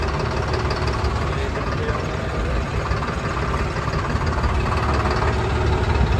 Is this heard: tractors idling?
yes